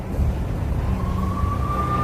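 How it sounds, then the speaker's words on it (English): NYPD police sirens in a New York slum of tenements wail with one rising, sustained tone climbing over a dense, steady rumble of noise, loud and continuous, with no voices. "I could hear the sirens. Their wail was a crescendo."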